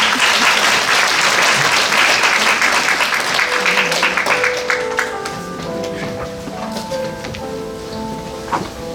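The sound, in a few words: audience applause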